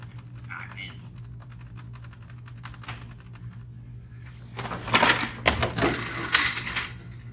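Fast typing on a computer keyboard produces a rapid, steady patter of clicks that grows louder and more forceful toward the end, with faint voices in the background.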